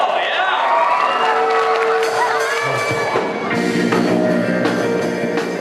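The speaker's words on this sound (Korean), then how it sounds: "박수 주세요" An audience claps and cheers with whoops and shouts for the rock band of Ulleung General High School at a Children's Day event on Ulleung Island; the noisy crowd roar stays dense and steady throughout.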